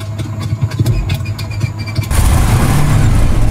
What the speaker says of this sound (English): Let's give it a start.